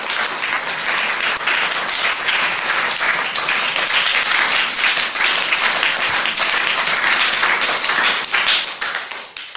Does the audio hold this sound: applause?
yes